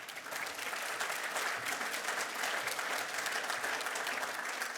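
Enthusiastic audience applause fills a hall as a speaker is welcomed at a public event, a dense, steady wash of many hands clapping at moderate distance, sustained evenly throughout.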